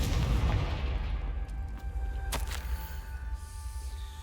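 Casting the Confringo blast spell in Hogwarts Legacy gives a short explosive burst with a ringing tail over a steady low rumble of game ambience.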